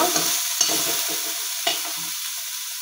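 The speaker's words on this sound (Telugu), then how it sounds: "కొంచెం రెడ్ కలర్ వచ్చేంత వరకు మంచిగా బాయిల్ చేసుకోవాలన్నమాట ఫ్రెండ్స్" Fresh coconut paste simmers and bubbles in a pan, giving a steady hiss broken by a few soft stirring scrapes, close up with no talking.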